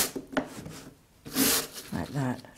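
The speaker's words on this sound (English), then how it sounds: "Just get a scrubbing brush and just go" A scrubbing brush rubs hard across a wet watercolour painting in a few short, rough scratchy strokes with brief pauses between them, close and fairly loud.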